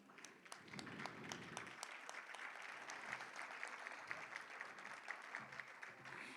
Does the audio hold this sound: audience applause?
yes